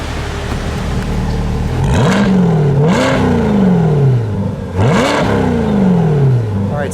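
A stock 2020 C8 Corvette with its mid-mounted V8 strapped to a dyno revs loudly, climbing and falling in repeated sweeping pulls, with the engine note rising sharply and easing back several times.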